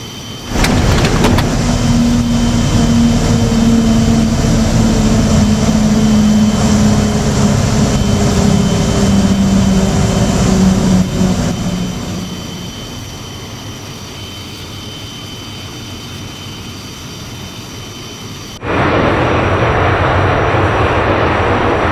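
A Bell X-1A rocket plane in Microsoft Flight Simulator 2020 gives off a loud, steady engine roar with a falling tone, then drops to a quieter hum before jumping back to a constant drone near the end.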